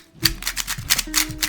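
A wooden-feel speed cube given as a Christmas present, turned rapidly by hand and making a quick series of close, dry, sandy clicking rasps in bursts.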